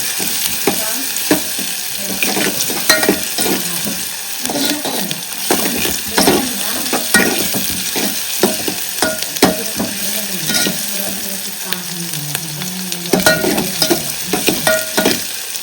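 Spiced masala with fried onion sizzles in a hot pan for a quick chicken curry, loud and close, with frequent scraping stirs and clinks of the spoon against the pan throughout.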